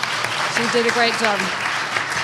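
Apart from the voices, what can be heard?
audience applause at a community forum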